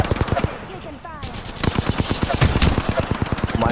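Rapid bursts of automatic gunfire in the video game Apex Legends, dense repeated shots throughout with a brief lull near the start, loud and close, with voices talking over it.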